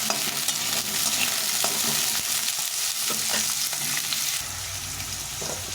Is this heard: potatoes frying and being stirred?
yes